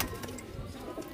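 Border pigeons kept for sale coo softly in a brief low burble, close by and faint against a light background noise.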